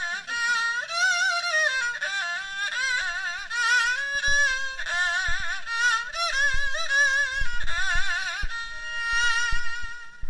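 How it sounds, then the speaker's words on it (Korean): A haegeum, the Korean two-string fiddle, plays a solo melody in front of an audience, its bright, nasal bowed tone sliding and wavering in pitch, clear and close with no talk over it. "해금 한 번만 소리 내보실래요?"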